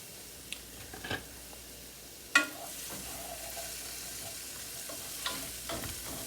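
Peppers fry in a pan with a steady, moderate sizzle, broken by a sharp utensil clack and occasional soft stirring scrapes.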